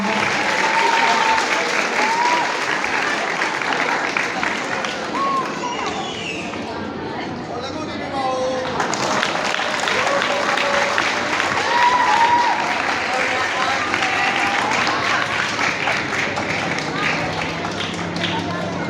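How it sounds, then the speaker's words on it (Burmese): An audience at a youth scripture memorisation contest claps loudly and continuously for almost the whole stretch, with a brief dip midway and a voice speaking over the applause at times. "အားလုံးလက်ခုပ်တီးပြီးတော့မှဂုဏ်ပြုပေးကြရအောင်"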